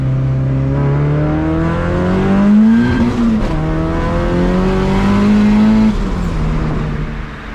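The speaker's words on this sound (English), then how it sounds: "I want to see what a second gear pull feels like real quick with this solenoid the way it is." Turbocharged Honda EF hatchback with a D16 engine pulling hard in second gear, the engine note climbing loud and close, easing at a shift point and then climbing again, with no talk over it.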